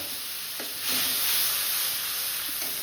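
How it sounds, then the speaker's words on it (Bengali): Spice paste of ginger, tomato and onion with ground spices hits hot oil left after frying fish, giving a steady close sizzle that swells louder after a moment and holds, with no talking. "এবার এই তেলের মধ্যে মশলাটা দিয়ে দেবো।"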